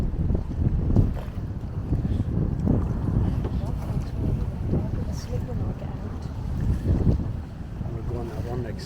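A big boat's engine rumbles past on the water in Croatia amid gusty wind noise, with people talking nearby.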